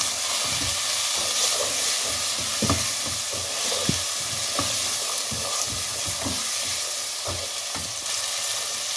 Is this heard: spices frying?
yes